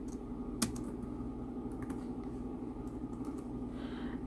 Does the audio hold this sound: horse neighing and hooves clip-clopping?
no